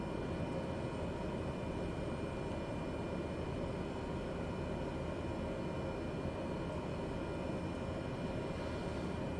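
A Cessna Caravan taxiing in Flight Simulator 2020 at Palmerston North, New Zealand: a steady, unbroken turboprop drone with a faint high whine, constant in level and heard alone throughout.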